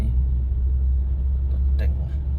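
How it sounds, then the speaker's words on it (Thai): A modified car rolls along a street in Vientiane, its deep, loud engine rumble filling the low end while a person talks over it. "รถแต่ง"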